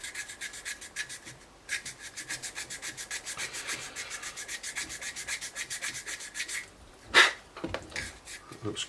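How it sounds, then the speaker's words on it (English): A sanding stick rubs back and forth along the intake seams of a Tamiya 1/32 F-16 CJ plastic model kit, giving steady rhythmic scratchy strokes up close, with a brief louder scrape near the end. "We just keep going in and out. Rubbing it away."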